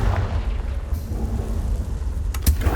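Confringo spell explosion in the Hogwarts Legacy video game: a low rumble under game ambience, then a sharp, loud blast near the end.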